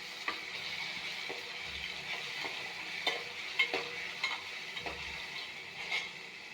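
Oil sizzles steadily in a pan while cooking Rayalaseema-style pachi pulusu, a soft continuous frying hiss with occasional light stirring clicks and scrapes, quiet and close, with no voices.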